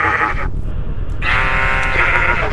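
Sheep in the Minecraft video game bleat loudly and close, one long wavering cry with a brief break partway through, heard alone without talk.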